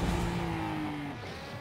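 A short burst of a car engine in the Rocket League video game, a steady loud whine that drops in pitch and fades after about a second.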